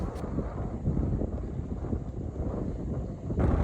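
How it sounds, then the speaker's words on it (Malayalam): Strong wind blows across a campsite in misty Wayanad, a loud, continuous low roar and buffeting against the microphone with gusts rising and falling and no clear speech. "അമ്മാതിരി കാറ്റാണ് ഇവിടെ വീശിക്കൊണ്ടിരിക്കുന്നത്."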